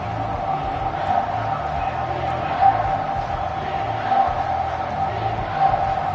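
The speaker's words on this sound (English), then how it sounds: "The crowd getting behind this defense as they try to get a stop in the red zone." A football stadium crowd roars steadily behind the defense during a red zone stand, a dense continuous wall of cheering with a few swells, fairly loud.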